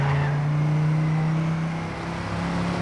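Car drifting through a curve in the racing game Trackmania 2 Canyon, a steady loud engine drone with a sustained tire hiss, no voices.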